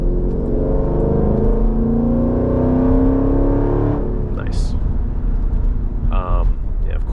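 A Jeep SRT engine pulls hard with a steady deep roar and rising whine, loud and close from inside the car, followed by short bursts of other noise.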